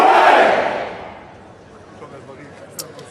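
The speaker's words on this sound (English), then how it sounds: "3 cheers for His Majesty the King." A large outdoor crowd at a proclamation of King Charles III roars a loud hooray that swells at the start and then fades away into a murmur of people talking, with a brief sharp sound near the end.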